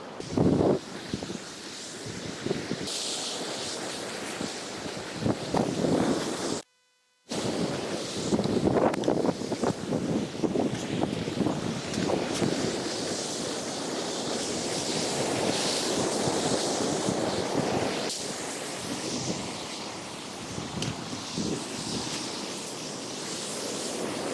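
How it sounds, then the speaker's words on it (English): Rough sea surf breaking at the shore with strong wind buffeting the microphone, a continuous loud roar of crashing waves and gusts, briefly cut out for a moment before resuming. "Gosh, those seas are epic"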